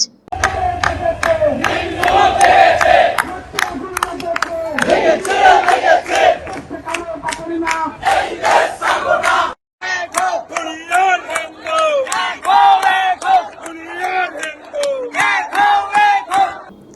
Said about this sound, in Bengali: তারা বাংলাদেশে হিন্দুদের উপর আক্রমণ এবং অত্যাচার বন্ধ করার স্লোগান তুলেন।